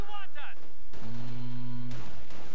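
Heavy gunfire in a war video game, with booming bursts around a short stretch of steady humming tone, mixed with commentators talking over the action.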